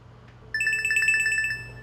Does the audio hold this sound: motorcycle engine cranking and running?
no